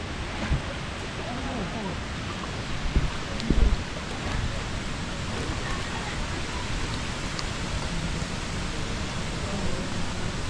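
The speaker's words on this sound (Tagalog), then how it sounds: "Ulan na, ulan." Steady rain hisses throughout at Cabagnaw Cave in Bohol, Philippines, with a few brief knocks and faint voices in the background.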